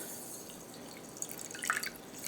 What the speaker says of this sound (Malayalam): ഇതിലേക്ക് ഒരു 1/4 കപ്പ് വെള്ളം ഒഴിക്കുക